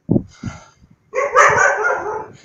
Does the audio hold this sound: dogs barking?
yes